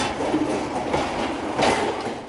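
A freight train carrying a 648-ton load inches into position along rail sidings for filling, giving a steady, close rumble with faint wheel clatter and no voices.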